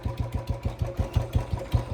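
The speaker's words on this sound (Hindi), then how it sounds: "नीचे से गाड़ी आ गई" A motorbike engine runs close by with a steady, pulsing idle-like throb, its regular low beats repeating about every quarter second, with no voices over it.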